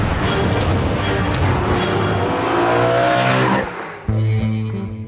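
A new BMW M3 accelerating hard, a loud close engine roar rising steadily in pitch before a brief dip at a gear change, then revving on strongly.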